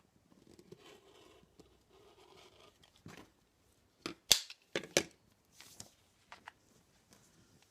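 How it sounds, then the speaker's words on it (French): Paper being cut with scissors while tracing a back-neck sewing pattern, a few sharp crisp snips and crunches clustered close together, with soft rustling of paper before them. "Je vais venir couper ici le haut"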